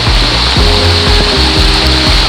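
Heavy rain falls steadily in a forest near a waterfall, a dense, loud hiss of rushing water filling every moment alongside low rumbling thuds, with no voices.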